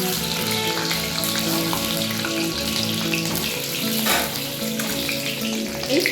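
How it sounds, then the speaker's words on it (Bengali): Eggs frying in a mix of oil and ghee make a continuous crackling sizzle up close, with occasional pops and light stirring, steady in loudness and free of speech. "এবার ডিমগুলোকে হালকা করে একটু ভেজে নেব।"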